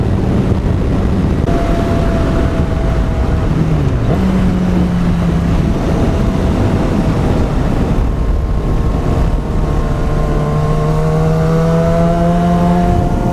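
A Yamaha FZ6R motorcycle fitted with a Hindle exhaust accelerates on the street. Its engine drones steadily under wind noise, and the pitch climbs near the end.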